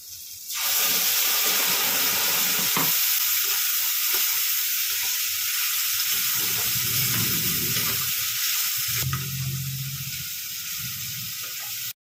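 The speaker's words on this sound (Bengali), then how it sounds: "এবারে এটা আলুগুলো ভাজা হয়ে গেছে, এবার এটা দিয়ে দেবো" Fried potatoes land in a pan of spiced masala with turmeric, chilli and cumin powder, setting off a loud, steady, hissing sizzle that runs nearly the whole time with a few low stirring rumbles.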